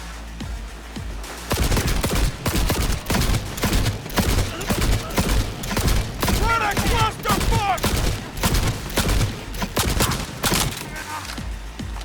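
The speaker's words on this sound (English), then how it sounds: "I'm shooting this guy like 10 million times and he ain't dying." Rapid, loud bursts of gunfire from the video game Cyberpunk 2077, dense repeated shots over roughly ten seconds with thuds mixed in, close and continuous.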